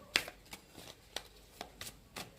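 Quiet, close handling of a card deck while cards are drawn, with a series of sharp, brief slaps and flicks spaced about half a second apart and no talking.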